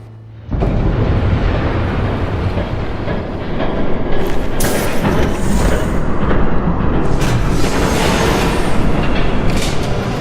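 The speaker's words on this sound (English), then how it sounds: "There's a train coming." A train thundering past in the video game Batman: The Telltale Series, a loud sustained roar with rumbling and surging bursts of rattling clatter, continuous and close.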